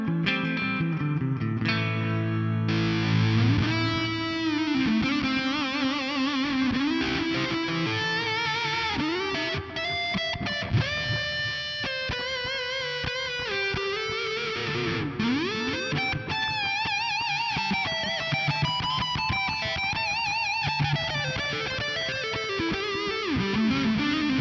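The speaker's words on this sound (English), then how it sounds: "I've got an analog delay up front, a compressor, and then I'm going to kick in the muff fuzz." An electric guitar through a Nux Mighty Plug Pro headphone amp, with analog delay, compressor and muff-style fuzz, plays fuzzy, distorted lines with echoing repeats trailing each note, sustained and loud without any voices.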